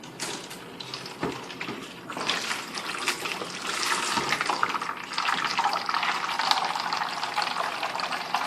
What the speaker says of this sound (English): It's the same old conventional way of starting the siphoning and siphoning from the primary pail